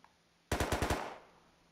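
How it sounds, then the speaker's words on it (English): Burst of five rapid gunshots in the survival video game Rust, loud and evenly spaced, fired off in just under half a second after silence, then a short decaying tail. "I don't know where those shots came from."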